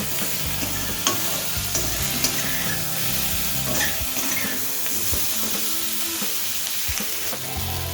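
Ingredients for a hilsa fish curry with taro fry in a pan while being stirred, a loud continuous sizzle with scraping and clinking of the spatula, no voices.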